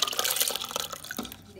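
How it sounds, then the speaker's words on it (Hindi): Soaked mixed dal poured together with its soaking water into a pressure cooker: a brief, close splashing pour of liquid that tapers off within a second or two. "अब इसी पानी के सहित मैं इसको कुकर में डाल दूंगी"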